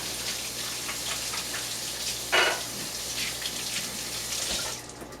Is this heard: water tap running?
yes